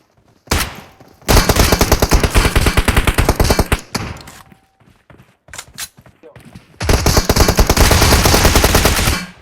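Automatic gunfire in the video game PUBG comes in loud, rapid bursts, two long sustained volleys with short pops between them and near silence in the gaps.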